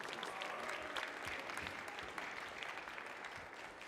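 An audience at a science creativity concert applauds a teacher's final attempt: a continuous, dense burst of clapping, fairly soft and even throughout, with no talk over it.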